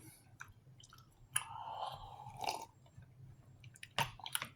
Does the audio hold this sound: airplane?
no